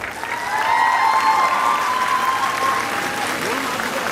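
An audience at a college prize ceremony gives sustained applause as winners collect their prizes, a dense continuous clapping crowd with cheering or whistle-like tones rising above it.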